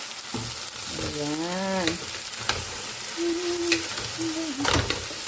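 Okra frying and being stirred in a pan of vegetarian vegetables, a steady sizzle with scraping stir sounds, while a voice speaks briefly over it.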